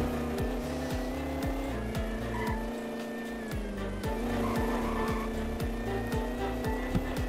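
Apollo car in Roblox Dealership Tycoon, all-wheel drive, racing a lap: steady high engine drone with rhythmic gear-like pulses and revving, loud and continuous, no talk.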